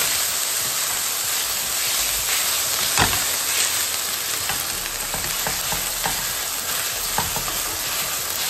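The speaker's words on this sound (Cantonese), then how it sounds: "然之後咧我哋燜散晒嗰啲豬肉先。" Minced pork stirred and broken up in a hot pan after water is added, for pork mince with tofu: constant loud sizzling with scraping stir strokes and a sharp spatula knock near the start.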